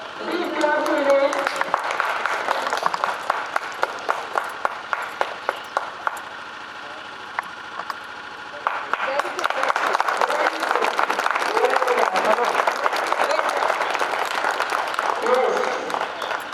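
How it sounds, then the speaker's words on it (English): A school audience at a Republic Day celebration claps loudly in two long rounds of applause, separated by a brief quieter lull, with some crowd noise underneath. "Big clap today."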